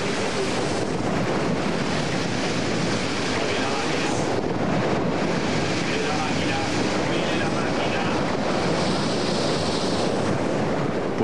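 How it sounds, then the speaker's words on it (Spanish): Heavy seas with 5-metre waves and 45-knot winds batter a ship on the open ocean, a loud, continuous roar of surf and wind buffeting that fills the whole stretch without a break. "El Sikolenga está siendo azotado por olas de 5 metros y vientos de 45 nudos."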